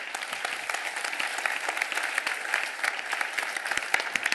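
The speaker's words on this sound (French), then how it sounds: "vous pouvez applaudir très fort Frédéric Gironne" A large audience at a French accounting profession congress claps loudly and continuously through a swearing-in ceremony, a thick sustained applause with sharp individual claps popping out.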